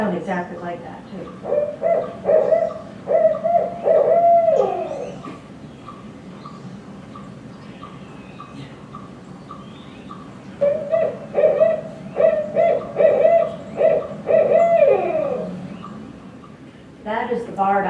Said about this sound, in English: That is the barred owl. It's a beautiful owl.